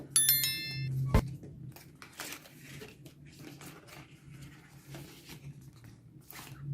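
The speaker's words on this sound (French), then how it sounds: "Nous allons retirer cet embout pour pouvoir ouvrir le carton de la montre." A tab is pulled off a smartwatch's cardboard box to open it, giving one sharp snap near the start, then soft rustling, scraping and crinkling of card at close range under a low steady hum.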